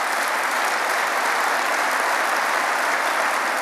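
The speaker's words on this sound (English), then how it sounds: "please do give them a round of applause" Sustained, dense applause from a large audience at a political party's annual leader's dinner in a convention centre, a steady loud roar of clapping with no breaks.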